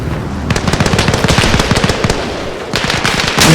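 Rapid automatic gunfire in a Wardogs-era King of the Hill game mode, with loud, close bursts of closely spaced shots that pause briefly and then resume, and no speech.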